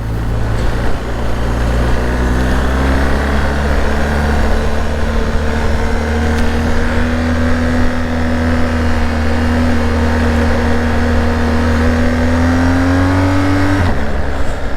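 A BMW R1250 GS motorcycle accelerating hard, its loud engine drone rising steadily for a long stretch before dropping off abruptly at the end, with no speech.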